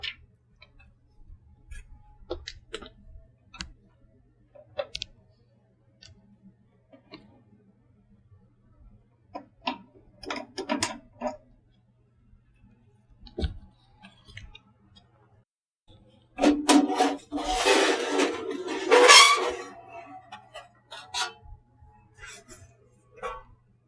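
Screws being removed from a Packard Bell Axcel 130 computer and its outer casing slid off, a run of sparse small clicks and ticks, then a denser scraping slide of the case near the end.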